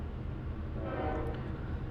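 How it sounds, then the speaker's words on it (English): A passing train in the video game Minecraft, a steady low rumbling roll with a brief horn-like tone rising in the middle, heard up close and alone for about two seconds. "A train is passing through."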